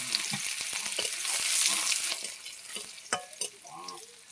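Crushed garlic tempering dropped into hot oil, sizzling and spattering close by with stirring clatter, loudest midway and then easing into scattered pops and utensil knocks.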